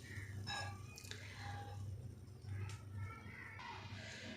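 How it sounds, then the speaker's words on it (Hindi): Water is poured into a pressure cooker holding moong dal lentils, making a faint, quiet splashing and dripping with soft background sounds. "ये पानी ऐड कर देते हैं।"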